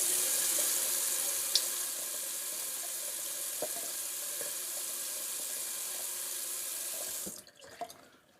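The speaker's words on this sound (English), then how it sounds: "Just doing a little cold water rinse." Cold tap water runs steadily into a sink for a post-shave rinse, a close, even hissing flow that cuts off near the end, leaving a few faint drips.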